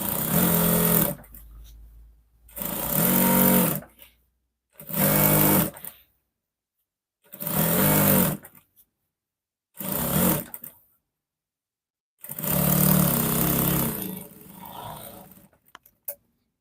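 Sewing machine stitching a bubu gown: six loud, close bursts of rapid stitching, each one to two seconds long, separated by silent pauses, with the last run the longest.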